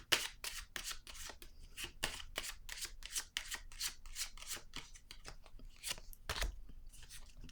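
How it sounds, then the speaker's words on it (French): Tarot cards rustle, slide and tap down on a table in a quiet room, a rapid run of close, crisp handling sounds with no talking. "Je vais déposer une carte."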